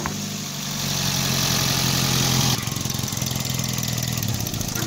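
A Toyota Vios engine idles after fuel injector replacement, first a rising rev and then a steady, slightly rough rhythmic idle with a faint shake, heard close and alone.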